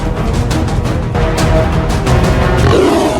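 A loud, sustained lion roar rumbles through the whole stretch, deep and growling, with no voices alongside.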